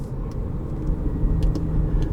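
Stock exhaust of a 2019 Mini Cooper S with automatic transmission, a steady low engine rumble heard close from inside the car while driving, fairly loud and continuous, with no speech.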